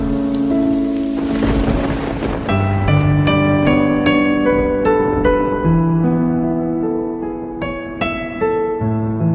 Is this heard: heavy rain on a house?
yes